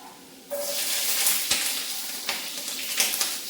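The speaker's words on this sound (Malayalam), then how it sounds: "നമുക്ക് ഈ പച്ചമുളകും കൂടെ വറുത്തെടുക്കാം" Sliced bitter gourd and green chillies frying in hot oil in a pan, a loud sudden sizzle that breaks out and keeps hissing steadily with a few sharp pops and spatters, close up and without talk.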